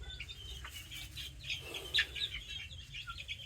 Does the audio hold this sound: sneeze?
no